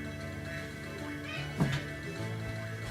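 A cat meows once in a short, rising call over steady game music playing throughout, with no talking.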